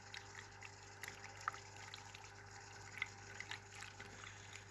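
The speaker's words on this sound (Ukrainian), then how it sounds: "Чому вода л'ється?" Water pours and trickles faintly into a home aquarium, a soft continuous dribble with a few small splashes over a steady low hum.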